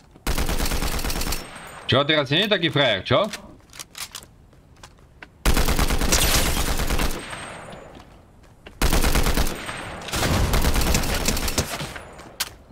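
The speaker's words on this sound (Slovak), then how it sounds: "Tu sa strieľa." Fortnite video game gunfire comes in several loud sustained bursts of rapid shots, separated by quieter gaps, with someone speaking briefly and an electronic warbling effect between bursts.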